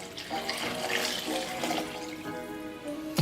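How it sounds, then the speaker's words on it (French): Water pours steadily into a microwave pressure cooker holding lentils and sausages, a continuous splashing trickle up close, ending with a brief clunk. "je mélange, je vais mettre 600 ml d'eau"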